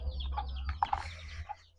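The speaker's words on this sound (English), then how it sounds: "this is the chicken" A yard chicken in rural Jamaica gives a few short clucks and soft calls, close by and fairly quiet, over a low background hum.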